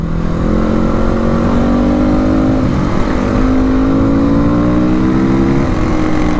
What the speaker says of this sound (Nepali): बाइकको आवाज चाहिँ लाउड छ